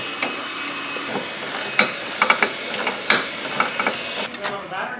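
A ratchet clicks while removing 10mm bolts and nuts from a headlight motor on a Firebird Trans Am or Corvette, with close, irregular bursts of ratcheting over a steady mechanical background.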